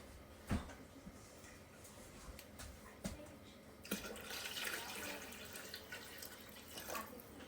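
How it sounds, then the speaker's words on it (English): Water being poured into a large canning pot holding jars of apple pie filling, a steady splashing pour with a few sharper clinks, growing fuller and louder in the second half, close by with no talk. "And then I need to add a little bit more water."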